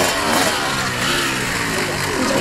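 A revving Mosquito motorcycle engine roars steadily and loudly throughout on a ride in the Camargue, a dense broadband drone with a low mechanical rumble and no pauses.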